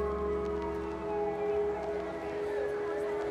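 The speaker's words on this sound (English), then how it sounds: "A siren corkscrews up from a distant estate." A steady, sustained siren tone drones from afar, holding one pitch over a low background hum, with a faint voice underneath.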